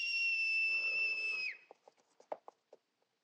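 A man gives one long, loud, steady two-note whistle to call his horse, ending in a short downward slide, followed by a few faint, scattered clicks and knocks.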